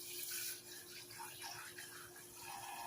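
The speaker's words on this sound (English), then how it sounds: "Put some water in here." Tap water runs in a steady, faint gush into a container during chili cheese dog preparation in a home kitchen, a continuous soft splashing flow with no voices.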